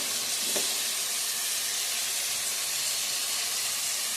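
Spices fry in a pan of potato and pointed gourd curry, a dense continuous sizzle and hiss of hot oil that stays loud and even throughout.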